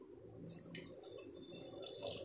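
Water, two cups, is poured into a pot of soaked chickpeas for kadala curry, making a steady, continuous splashing rush that stays level throughout, with no talking.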